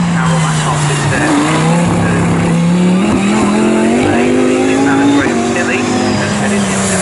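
GT race cars, including a Ferrari, in the pit lane at Snetterton during a GT Cup race, engines droning loud and close with rising and falling pitch as cars pass, under commentary.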